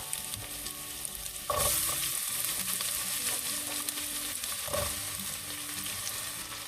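Garlic and onions hitting hot oil in a pan for karela sabzi, a quieter sizzle that bursts louder as the onions go in, with a second surge of crackling later.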